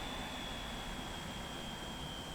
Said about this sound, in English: Lovely, lovely engine sounds.